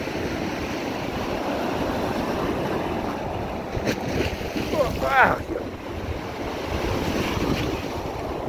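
Sea waves splashing beside the promenade in Blackpool, a steady wash of surf under gusty wind noise, with one louder splash near the middle.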